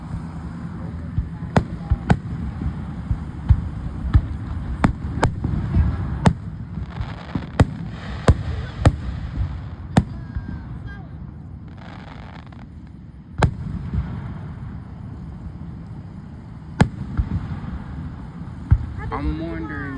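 Fireworks going off at the side of a road, a string of sharp bangs and pops at irregular intervals with some close loud cracks, over steady outdoor rumble while people talk.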